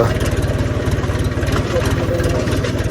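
A tractor engine idles steadily close by in a field, a low, even chugging throb that continues throughout without a break.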